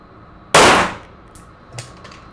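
A single sharp handgun shot fired during a draw drill on a training range, loud and close with a brief ringing decay, followed by a couple of faint smaller knocks.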